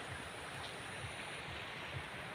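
Steady broadband rush of river water at Calabagas, San Vicente, Camarines Norte, continuous and even with no voices, a soft wash like a flowing stream heard close by.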